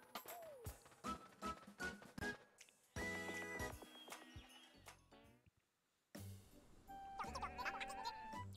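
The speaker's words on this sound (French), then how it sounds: "Tu as vu ces moutons? Ils sont trop mignons." Sheep bleat repeatedly among bright, synthetic game-style tones and effects in Miitopia on Switch, several calls scattered over a few seconds.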